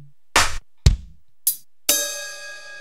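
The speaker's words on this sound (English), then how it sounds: "in that recording, you should have heard a number of drum sounds" Four separate drum hits recorded and played back in MATLAB: three short, sharp strikes spaced apart, then a final ringing hit that sustains and slowly decays, with silence between them.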